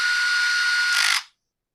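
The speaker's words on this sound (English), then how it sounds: "We'll get all our anti-vibe screws put back into place." A power driver runs steadily for about a second as it drives anti-vibration screws back into a Husqvarna 254XP chainsaw, rising in pitch briefly before cutting off abruptly into silence, close and alone.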